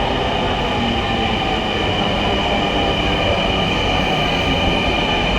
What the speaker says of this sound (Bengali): মেট্রো রেল চলে আসছে, মেট্রো চলে আসছে,